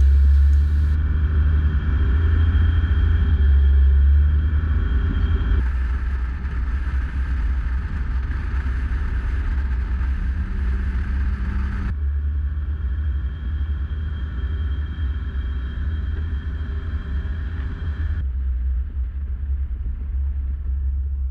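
A 4WD vehicle grinds along a soft sandy bush track toward muddy holes, a loud, low engine drone and rumbling cabin noise held steady throughout, shifting in tone as the load changes.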